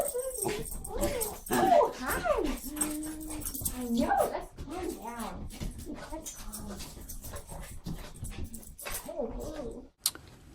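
Several excited dogs whimper, whine and yip in rapid overlapping bursts while greeting a family member returning home after weeks away, close and fairly loud, ending in a sharp short yelp.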